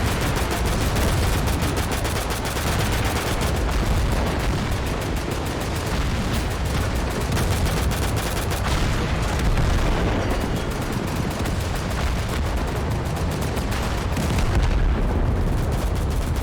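Dense, continuous gunfire and artillery explosions in Total Conflict: Resistance battle, loud and relentless with overlapping shots and blasts throughout, no voices.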